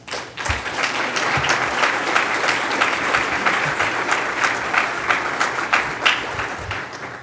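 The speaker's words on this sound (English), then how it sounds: "I think we all can give ourselves a round of applause" Sustained applause from a conference audience after an opening keynote at a space industry event, steady dense clapping filling the room with no talk over it.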